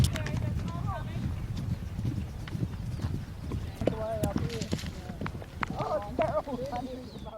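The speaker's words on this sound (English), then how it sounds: "We've got gauchos coming in on our left with a group of horses from the backcountry." Horses herded in by gauchos from the Patagonian backcountry clop over the ground in a steady stream of hoofbeats, with a few whinnies and a person talking throughout, set against outdoor wind.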